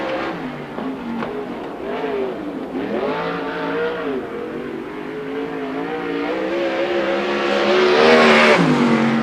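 A 410 sprint car running a qualifying lap on an oval, its engine wailing loud and continuous with rising and falling pitch through the turns, swelling as it nears.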